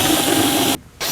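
Power driver spinning out T27 bolts from an RV door's bottom trim pocket, a loud steady whirring burst that cuts off abruptly, pauses briefly, then resumes, close up with no talking.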